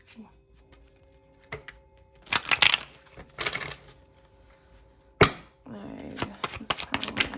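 Tarot cards are shuffled in a few quick bursts of riffling and slapping close to the microphone, separated by quiet pauses, with a soft voice faintly present.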